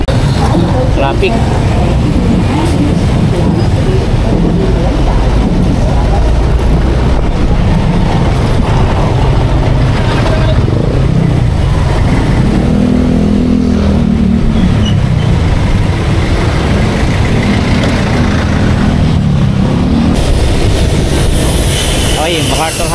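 Loud road traffic rumbles around a motorcycle riding along MacArthur Highway in the Philippines, with steady engine drone and passing vehicle noise throughout, and a voice talking over it.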